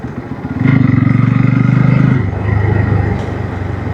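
A motorcycle on a road ride from Arunachal Pradesh toward Dibrugarh, Assam, its engine thrumming loud and close with a pulsing, rapid beat that steadies, then eases slightly, with wind noise around it.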